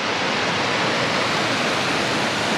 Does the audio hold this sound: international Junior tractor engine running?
no